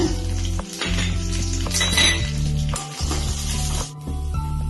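Crushed garlic, dried red chillies and peanuts fry in hot oil with a loud, steady sizzle, close up, while a utensil clatters and scrapes against the pan in repeated stirring strokes; no voices.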